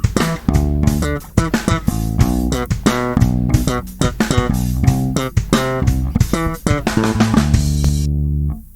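A bass riff played in full on bass guitar, a steady stream of rapid, percussive plucked and muted notes in a funky rhythm, close and loud with no talk, ending on a held note.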